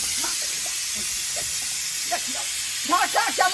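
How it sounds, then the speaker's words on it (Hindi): A pressure cooker lets off a steady, loud steam hiss throughout. A voice talks intermittently beneath it. "कुकर फुफुआ जाय है का"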